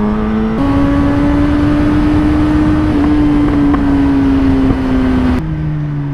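A Honda Fireblade superbike pulls past a Toyota Innova on a village road in India, its engine holding a loud, steady drone with wind rush before dropping pitch near the end as the rider eases off.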